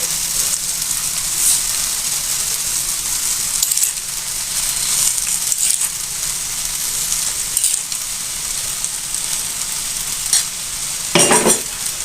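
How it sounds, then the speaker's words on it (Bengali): A pan of olive pickle cooked with sugar and chili sizzles and hisses steadily, with periodic scraping strokes as it is stirred, loud and close throughout, plus one sharper scrape near the end. "এটাকে আমি সুন্দর করে মিশিয়ে নিব"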